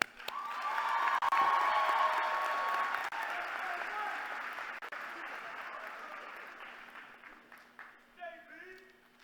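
A large crowd at a Bowie State University graduation ceremony bursts into sustained applause after a commencement speech, loud at first and slowly thinning out, with a voice starting to speak near the end.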